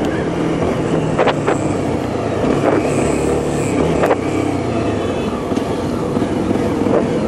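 A Honda XRE 300 motorcycle being ridden, its engine droning steadily under constant road and wind noise, with a few brief sharper clicks and no talk over it.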